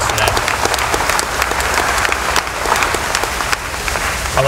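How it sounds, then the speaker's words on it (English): A press conference crowd breaks into steady applause, dense clapping from many hands holding an even level throughout the few seconds. "Round of applause for that."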